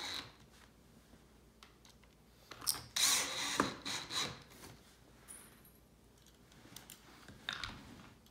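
A power drill drives screws into the wooden corner piece of a farmhouse corner bench, heard as a few short bursts of whirring and rubbing wood, with the loudest run in the middle and a quieter burst near the end.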